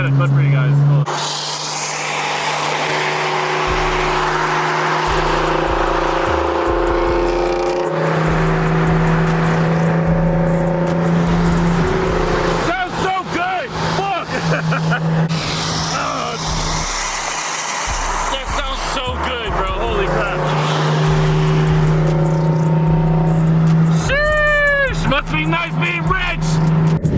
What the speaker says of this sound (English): that exhaust sounds so good